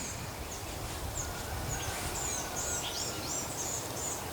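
Repeated odd, warbling bird calls, hooting and gurgling like an owl, sound at a moderate distance over steady low rumbling background noise while fishing.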